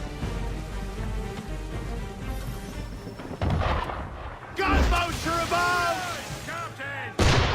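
Ship cannon fire in a naval battle from the 2012 PC game Assassin's Creed III, loud booming blasts at about 3.4 and 7.2 seconds over constant rumbling battle noise, with voices talking in between.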